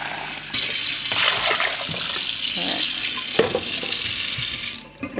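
Tap water pours steadily into a cooking pot to soak peas for stew peas with pigtail, a loud continuous rush filling the whole stretch before cutting off near the end.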